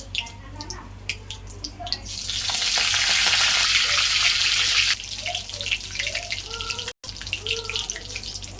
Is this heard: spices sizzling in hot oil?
yes